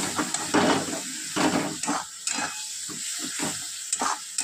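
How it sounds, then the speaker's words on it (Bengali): Ground cumin, coriander and chili powder masala cooking with a splash of water in a pan, sharp bursts of sizzle and hiss with stirring scrapes, loud at first then settling into steadier crackling. "সামান্য জল দিয়ে আর কষিয়ে দেব।"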